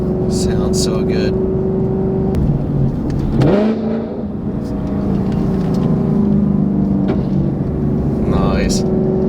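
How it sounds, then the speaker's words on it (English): A supercharged Ford Mustang with a Corsa Xtreme cat-back exhaust, set to normal mode, idles with a steady rumble and then blips into a sharp rev around the middle before settling back down. A voice talks over it. "Sounds exactly how a Mustang should with a Corsa Performance exhaust on it"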